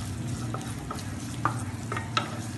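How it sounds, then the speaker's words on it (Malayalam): Chopped garlic and ginger sizzle in coconut oil in a pan for a Kerala-style mutton curry, with a steady frying hiss and a few scraping taps as a spoon stirs. "നന്നായിട്ട് ഇതൊന്ന് വഴറ്റി കൊടുക്കുക."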